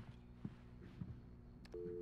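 In the video game Alan Wake, a telephone is dialed, with a few short tones and clicks over a low hum, ending in a steady tone; the sound is quiet.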